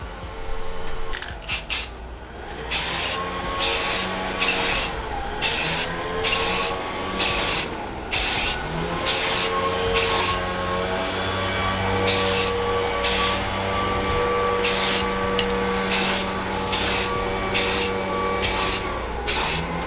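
A spray can applies a second coat of black paint to a prepped plastic vehicle part, giving loud, close, evenly spaced hissing bursts, each about a second long, with short pauses between them and no talk.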